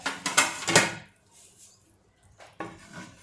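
A spoon scrapes and clinks against a pot while hot cooked bhagar is served into a bowl, a few quick metallic knocks followed by a pause and another scrape, close and clear with no talking.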